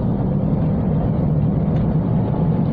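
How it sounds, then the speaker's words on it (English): Steady low rumble of tyres rolling on a road from inside a moving Toyota Starlet, a constant broadband roar with no voices. "there's a bit of tyre noise"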